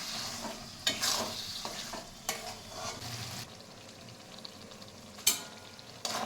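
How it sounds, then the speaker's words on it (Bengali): Mutton with yogurt and spices frying in a pan on raised heat, a constant sizzle with several scraping stirs of a spatula, close up and without talk. "মাংসটা ভাজা হয়ে গেছে, তেল ছেড়ে দিয়েছে।"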